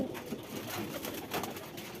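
Domestic pigeon cooing on a house rooftop, soft and somewhat distant, a low murmuring coo under steady background noise.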